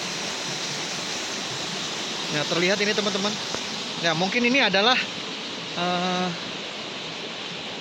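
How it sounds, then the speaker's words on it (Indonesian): Water pours steadily from a spout at a house in the forest, used for washing dishes and clothes, making a constant rushing splash that continues under a person talking. "air pancuran ini digunakan untuk mencuci ya"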